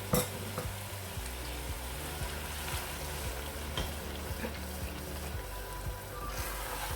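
Curd cooks with fenugreek leaves in a hot pan, giving a dense, continuous sizzle and bubbling that holds steady throughout, with faint scrapes of stirring, close and loud, no talking.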